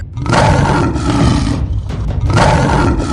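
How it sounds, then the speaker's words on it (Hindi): A loud, deep tiger roar in two long bursts with a short break between, filling the whole clip. "तभी वहाँ शेरा का दहाड़ने की आवाज आती है"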